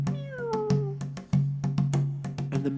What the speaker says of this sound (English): The cat meowed.